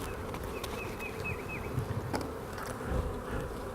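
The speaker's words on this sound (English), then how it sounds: "everybody's gathered on the queen." Honey bees clustered around the queen inside a hive make a steady, dense buzzing hum that continues throughout, close to the listener and uninterrupted, with no voices.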